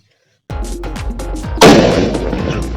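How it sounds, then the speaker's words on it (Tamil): An elephant-brand pot firecracker goes off with a sharp, loud bang after a few dull thuds, followed by a crackling rumble that fades slowly. "பானை வெடி தான்"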